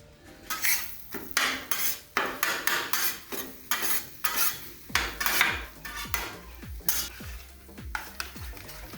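Steak being stirred in a sizzling pan, with rhythmic scraping strokes of a utensil against the metal over steady frying, close and clear with no talking.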